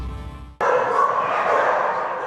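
A rescued pit bull mix from a dogfighting case whimpers and yips, a steady high plaintive whine that cuts in abruptly after a brief low background and continues close and loud.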